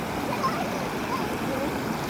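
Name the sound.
river water flowing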